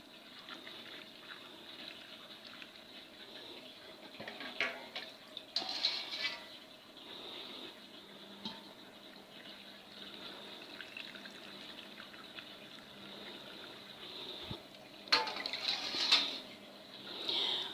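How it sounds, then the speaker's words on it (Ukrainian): Cold brine pours into jars of cucumbers packed for winter pickling, a soft, steady liquid fill with a few brief splashes and clinks, heard fairly close and at low level without talk. "Холодним розсолом заливаємо баночки."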